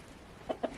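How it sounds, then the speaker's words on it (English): A homestead chicken, startled by a cat, gives three short, faint clucks in quick succession near the end of an otherwise quiet moment. "That chicken got scared of that cat."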